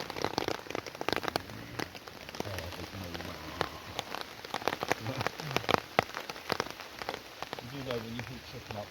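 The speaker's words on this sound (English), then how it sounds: "staying out the rain because it's getting heavier, as I'm sure you can hear" Heavy rain patters densely on a tent flap and tarp at a wild camp, a close, continuous crackling drumming of drops with occasional louder hits, with faint voices in the background.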